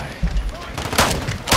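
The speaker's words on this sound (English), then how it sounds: "I hate this shotgun!" Shotgun blasts in a first-person shooter match, several sharp bursts in quick succession over a short span, loud and close, mixed with background game noise.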